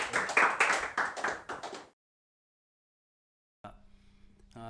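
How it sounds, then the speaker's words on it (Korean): Clapping from a church congregation welcoming a speaker to the front during a Sunday service, a burst of hand claps for about two seconds before fading into silence, then faint room noise. "박수로 환영해 주시기 바랍니다"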